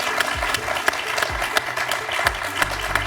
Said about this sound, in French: On peut l'applaudir, Hervé.